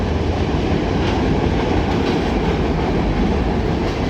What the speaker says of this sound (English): A lot of train for just 2 engines.